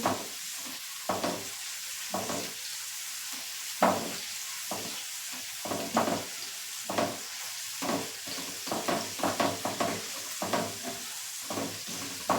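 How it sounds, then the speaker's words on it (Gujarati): Ginger garlic paste goes into a hot pan of sautéing onions and is stirred, giving repeated scraping strokes over a light sizzle, uneven in rhythm, with no voices. "આપણે આમાં આદુ લસણની પેસ્ટ ઉમેરીશું આદુ લસણ પેસ્ટ બરાબર એડ કરી લેશું"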